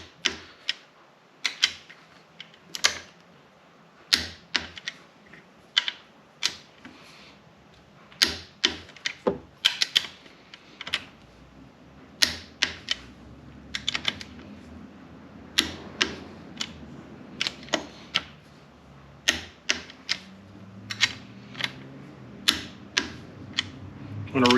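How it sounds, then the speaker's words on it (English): A torque wrench tightens the bolts on a water-cooled cylinder head during a Honda Odyssey FL350 engine rebuild, producing a long run of sharp, close ratchet clicks in irregular bursts, with someone talking in places. "So we're just going to take everything to torque now."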